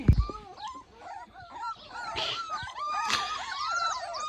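Young puppies outdoors whimper and yip again and again in thin, high, wavering cries. Several overlap at close range, with a brief thump at the start.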